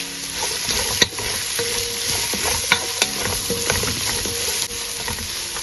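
Chopped onions and small shallots fry for a Kerala-style beef roast, giving a close, continuous sizzle with a few sharp clicks and knocks as they are stirred in the pan.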